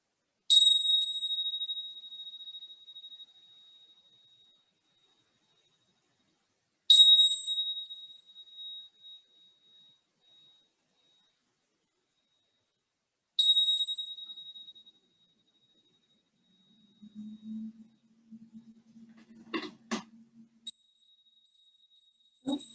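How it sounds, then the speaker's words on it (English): Tibetan bells struck three times at even intervals, each bright ring sustaining and fading into silence, followed by softer low tones and a few faint clinks near the end, heard alone. "Also have my Tibetan bells."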